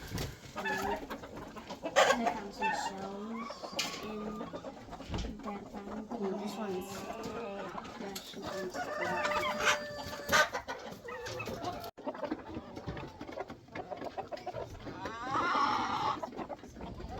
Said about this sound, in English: So that's a lot of chickens.